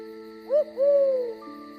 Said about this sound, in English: I hear an owl.